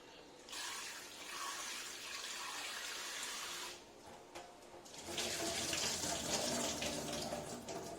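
Tap water runs into a sink while rice is washed for kalathappam, a steady faint stream that pauses briefly, then returns heavier and fuller with splashing, no one speaking.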